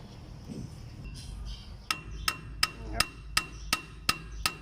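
Hammer striking metal while driving a wheel bearing into a DC 70 rice harvester, eight sharp ringing blows at a steady rhythm, close up after a few quieter knocks and handling sounds.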